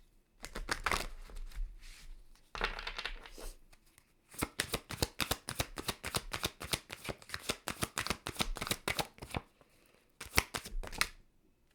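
Tarot cards shuffled by hand, a brief riffle then a long run of quick crisp card flicks and taps, close and fairly quiet with short pauses, no talking.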